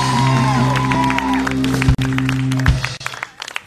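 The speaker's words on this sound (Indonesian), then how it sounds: "Sekali lagi tepukan untuk Roslyn Hashim." Audience applause on a Malaysian TV talk show for guest Roslyn Hashim: a steady wash of clapping over a sustained tonal hum, breaking off sharply near the end and thinning into a few scattered claps.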